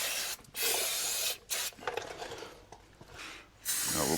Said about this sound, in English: Just hose everything off with some brake cleaner